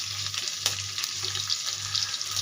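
Cumin seeds and curry leaves sizzling in hot oil for a pasta breakfast, a bright continuous crackle with small pops and a low hum under it, close and steady.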